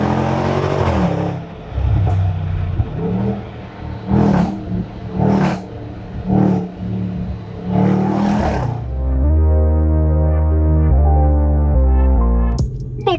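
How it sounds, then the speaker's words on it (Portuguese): The supercharged V8 engine of a Range Rover Sport SVR roars and revs repeatedly in surging bursts, then settles into a deep, steady rumbling idle, loud and close. "vocês ouvem um pouquinho mais desse ronco do V8 Supercharged do Range Rover Sport SVR"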